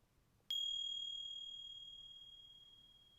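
A meditation chime rings once with a sharp strike, then a clear pure tone lingers and fades slowly over several seconds in a quiet room.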